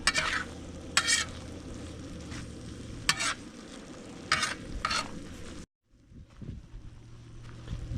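Gnocchi frying with cheese in a pan at an outdoor campsite, with a sizzling bed under repeated scraping and stirring strokes, wind noise, and a brief dropout near the end.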